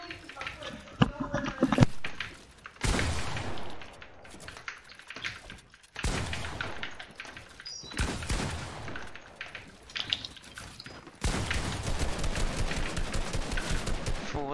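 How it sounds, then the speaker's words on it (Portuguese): Gunfire and shotgun blasts crack in repeated bursts during an online video game match, sharp and punchy amid clattering game effects, with players chatting over much of it. "Um gajo aqui a mandar tiros de shotgun."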